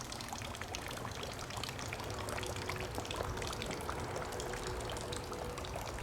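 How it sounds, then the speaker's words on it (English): Water pours steadily into a garden pond with a continuous splashing trickle, soft and even throughout, with no voices. "Starting to fill up with water."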